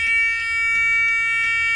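Low air warning buzzers in a Peterbilt 362 truck cab during a safety inspection, a steady loud electronic tone pulsing rhythmically about every third of a second, with no voices.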